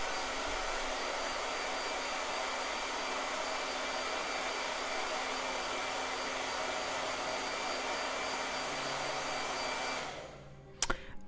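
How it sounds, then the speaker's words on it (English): Hair blow dryer running steadily at close range as a continuous loud whoosh, cutting off near the end with a couple of brief clicks and knocks. "Blow dryer."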